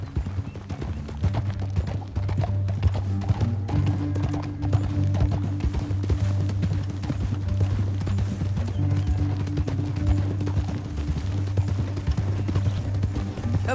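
Horse hooves clip-clop steadily and continuously at a trot in the video game Red Dead Redemption 2, close and loud, with occasional whinnies over a low rumbling background.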